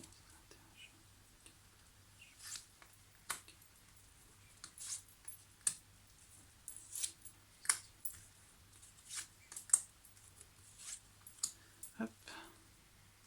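Tarot cards being reshuffled by hand, a run of soft, quiet clicks and light papery flicks in an irregular rhythm, close by with no talking over them.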